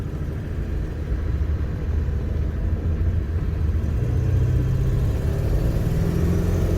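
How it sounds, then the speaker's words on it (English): A car drives past on a road, a rising then sustained engine rumble that swells louder toward the end, heard from inside a 7.3 Powerstroke diesel truck with no talking. "Wait for this car to go by"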